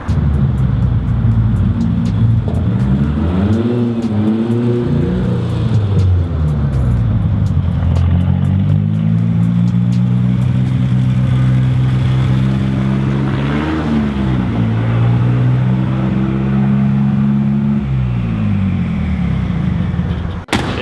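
Ford-powered Datsun 240Z engine running loud and close as the car drives, its harmonic drone rising and falling with repeated throttle changes, rough at times as if missing on some cylinders, with no talk over it.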